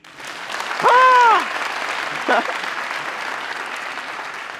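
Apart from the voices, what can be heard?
audience applause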